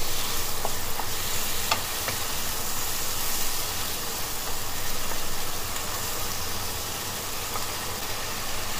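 Chap chye vegetables with tauco sizzle and fry in a pan over medium heat while being stirred, a continuous crackling hiss with faint scraping and a low background hum.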